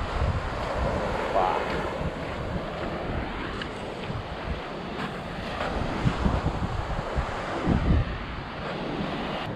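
Sea waves wash onto a shore on the road toward Ushuaia under constant gusting wind that buffets the microphone, a steady, full roar of surf and wind.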